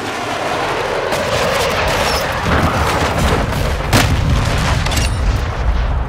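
Airstrike explosions in Call of Duty: Modern Warfare II boom loudly in a heavy, continuous barrage, with deep rumbling blasts rolling one into the next.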